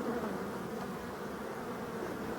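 Honey bees in mid-October hum steadily around the hive entrance as foragers bring in pollen, a dense, continuous close buzz with no voices.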